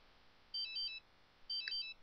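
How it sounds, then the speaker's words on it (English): A phone ringtone in The Sims 3 video game, two bursts of electronic trilling tones about a second apart, clean and moderately loud over a quiet background. "Whose phone is that?"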